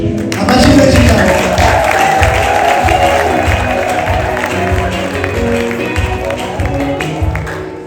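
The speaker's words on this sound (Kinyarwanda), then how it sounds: "Amashyi menshi cyane." Applause and crowd noise at a lively wedding celebration, a sustained wash of clapping with cheering voices, loud and close, holding steady for several seconds before easing slightly.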